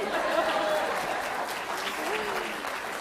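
An audience at a tech talk breaks into steady applause, heard at moderate distance in a large room with voices mixed into the clapping.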